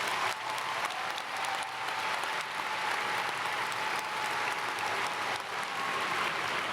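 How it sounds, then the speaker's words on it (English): A large graduation audience at a Lone Star College CyFair commencement applauds continuously, a dense, even wash of clapping heard from within the hall. "Let's give them a round of applause."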